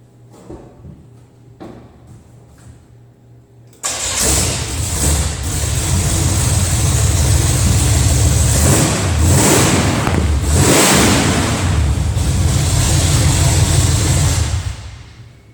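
A Buick Cutlass engine roars to life after a quiet stretch, revving hard and loud through open headers with a raw, unmuffled exhaust blast that holds for about ten seconds before cutting off.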